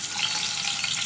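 Bay leaves dropped into hot oil for a stuffed ivy gourd curry, giving a loud, dense, continuous sizzle that cuts off abruptly after about a second.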